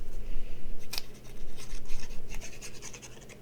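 Scissors snip and scrape while trimming excess material in a glue-and-layering craft project, with a sharp cut near the start followed by a run of quick, close scratchy snips.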